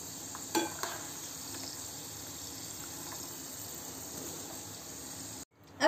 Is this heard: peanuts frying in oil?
yes